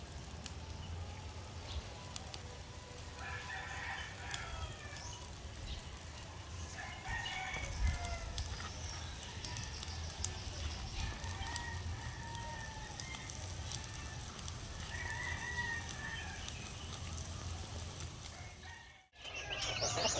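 Farm chickens clucking softly with a rooster crowing, faint and mostly in the background over a low constant rumble, with a brief dropout near the end.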